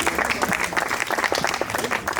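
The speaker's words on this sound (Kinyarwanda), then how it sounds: "ariko twabanje twiha amashyi" Audience applause at an anniversary celebration, a dense, continuous patter of many hands clapping at once, fairly close and steady throughout.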